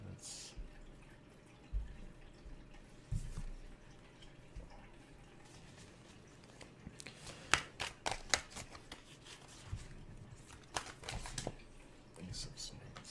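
Tarot cards being shuffled and switched by hand, soft papery riffles and taps in brief clusters, loudest midway and near the end, close and quiet with low room noise.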